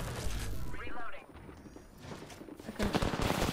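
Gunfire from the video game Apex Legends, with rapid shots and bursts that build toward the end, heard alongside in-game sounds and talk.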